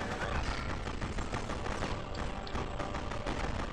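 Machine gun fire in the Freedom Fighters video game: dense, continuous rattling shots mixed with thuds, filling the whole stretch at a steady level.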